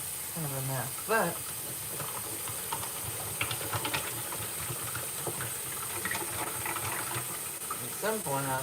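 Hot water runs steadily from a kitchen tap into a sink of dishes, a constant hissing flow under occasional clinks and a person's voice.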